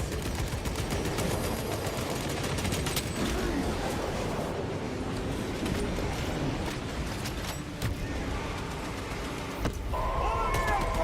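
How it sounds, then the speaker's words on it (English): Gunfire in the Warhammer 40,000: Space Marine II game, rapid continuous automatic fire and clattering mechanisms in a dense, loud battle mix lasting throughout, with voices shouting over it. "Opening fire."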